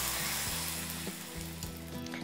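Curry leaves tempered in hot oil sizzle as they are tipped into a boiling pumpkin and mixed-vegetable pulusu stew with drumsticks and bottle gourd, giving a steady close frying hiss over a low bubbling rumble, with no talking.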